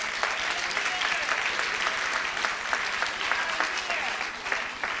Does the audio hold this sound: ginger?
no